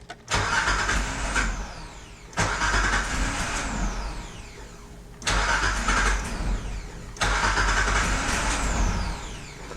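A Nissan D21 Hardbody truck engine with a leaking fuel line runs in four close bursts, each starting with a sharp rise and settling into a rough idle before cutting out.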